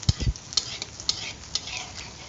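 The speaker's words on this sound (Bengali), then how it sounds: "হাতায় খুন্তিতে করে তেল নিয়ে এই করে দিচ্ছি বড়ার উপরে" A ladle and spatula spoon hot oil over bora fritters frying in a pan. There are a couple of dull knocks at first, then light sizzling with scattered small clinks.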